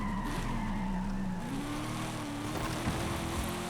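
A race car in a Forza racing game brakes hard into a tough corner, its tires squealing in a long, sustained skid over a low engine drone, with no talk.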